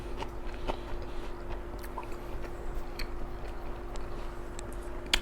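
Close, soft chewing and biting of sushi with wasabi, wet crunchy mouth sounds repeating steadily at low level against a faint background hum, no talking.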